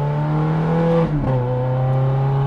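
A Ferrari Scuderia Spider 16M engine drones steadily near the microphone, its pitch dipping briefly mid-way as a single gearshift in classic mode goes through, then settling back into a strong even hum.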